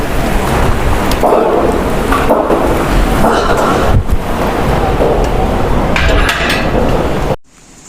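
Loud, continuous roar of wind and heavy rain from a storm in Punjab that tore tin roofing off, with brief gusty bursts, cutting off abruptly near the end.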